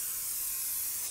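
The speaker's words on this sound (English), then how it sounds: "Take a little brake parts cleaner," A short continuous hiss of brake parts cleaner sprayed from a can onto a front brake rotor from a 2013-19 Nissan Sentra, close and steady.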